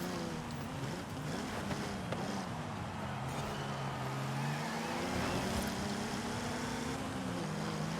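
A racing car engine in Forza Horizon 5 roars steadily throughout, a dense, loud drone with shifting pitch under continuous broadband road and wind noise, with no talk.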